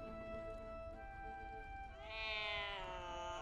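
A cat meows in the video game Baldur's Gate 3, a long, faint, drawn-out cry that rises in pitch near the end over a quiet ambient background.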